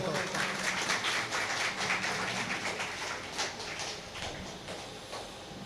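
Audience clapping at the grand opening of a private academy in Thiruvambady, steady broadband applause filling the whole stretch at moderate level, fading slightly toward the end.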